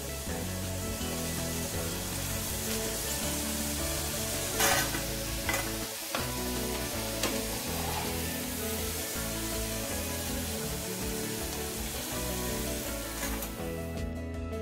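Potato stick chips frying steadily in hot oil, a dense, continuous sizzle with a few brief louder clatters, close and loud with no voices.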